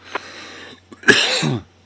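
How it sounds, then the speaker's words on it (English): A couple of harsh, close coughs, one soft and one louder, in an otherwise quiet space. "I have a bit of a cough at the moment."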